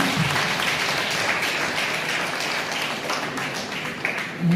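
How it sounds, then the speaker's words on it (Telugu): Sustained, dense applause from a large group of children clapping together, steady and fairly loud throughout, with no talk over it. "చప్పట్లు గట్టిగా కొట్టాలి పిల్లలు ప్లీజ్."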